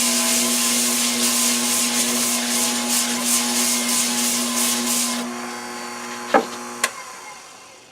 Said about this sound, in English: Keep your sanding moving.